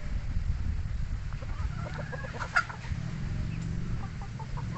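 A gamefowl brood stag clucks and gives short calls close by, with soft intermittent bursts over a low background rumble on a breeding farm.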